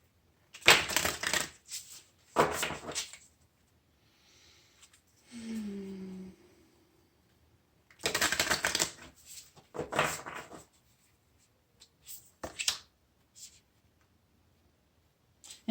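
Tarot cards are shuffled in several short, crisp bursts separated by pauses, close and fairly clear, with a faint low murmur in one gap.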